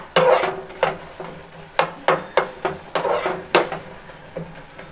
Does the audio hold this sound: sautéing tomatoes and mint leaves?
yes